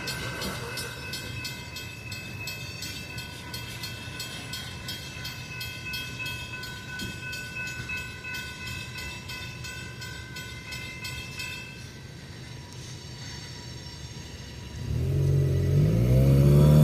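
Train rolling past a railroad crossing with the crossing bell ringing steadily for most of the stretch, then the bell stops and a louder low rumble of passing rail cars rises near the end.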